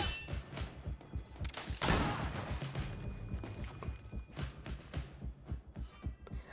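Gunfire in GreedFall, fired at targets for practice, sounds as a run of quick muffled shots and thumps, with one heavier burst, fairly faint under game ambience.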